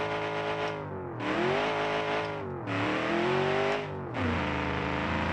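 V8 offroader engine in BeamNG revving hard in three long pulls, each climbing in pitch then dropping sharply between gear changes, loud and close with no talk over it.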